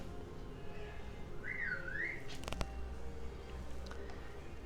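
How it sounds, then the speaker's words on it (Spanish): A single short whistle glides up and down for under a second, faint against steady background noise during a recorded Bible lesson. "Ese silbido es porque estoy bajando de peso."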